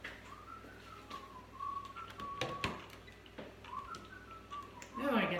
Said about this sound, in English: we don't want to hear the whistling probably, do we?